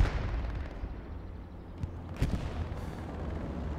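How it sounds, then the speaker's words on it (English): Bombing run explosions in Hell Let Loose, heavy rumbling blasts rolling over a dense low battlefield din, with a couple of sharper impacts standing out near the middle. "I got bombing runs just the moment I spawned."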